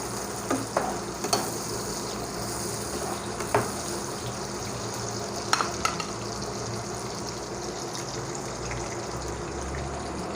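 Chopped onions fry quietly in oil in a pan for a chicken vegetable rice noodle dish, giving a soft continuous sizzle with a few sharp clinks of stirring.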